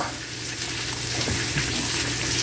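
Bacon fries in a pan for bacon bits, producing a constant, dense, hissing sizzle that stays loud and even throughout, with no talking.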